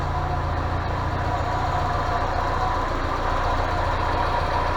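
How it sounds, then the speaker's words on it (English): A Mazda MX-5 Mk1 (Miata) engine idles with its characteristic knock, producing a steady, close, low rumble with an even pulsing rhythm and no talking. "it's got that Mark 1 mx5 knock"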